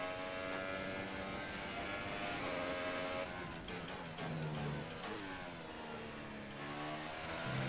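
Racing engine of a Formula 1 car in a video game at the Austrian Grand Prix, a steady high-pitched whine that holds then climbs in pitch as the throttle opens, loud and continuous with no talk.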